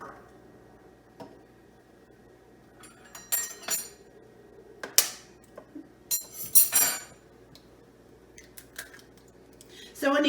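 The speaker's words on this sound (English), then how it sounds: "Annabelle's going to show you how to crack that egg" A child cracks an egg for an omelet in a kitchen, with sharp taps and clinks of shell against a bowl spread across the clip, close and fairly quiet, under occasional adult talk.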